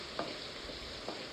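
Chopped onions with a pinch of salt fry steadily in a pan, a low continuous sizzle with a couple of soft stirring scrapes, no talking.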